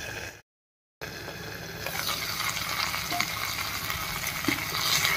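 Spice paste fries in oil in a pan for an egg and pointed gourd curry; after a brief silent gap, a steady close sizzle builds with stirring scrapes, and no voices are heard.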